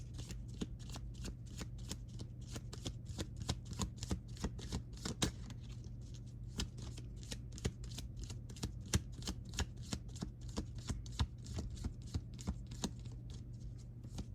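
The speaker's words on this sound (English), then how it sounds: "I forgot to pull Safari and Nicki's telepathy cards, so I'm gonna do it right now" Tarot telepathy cards being shuffled, a long run of quick, crisp riffling snaps repeating at an even pace over a low steady hum, close and fairly quiet.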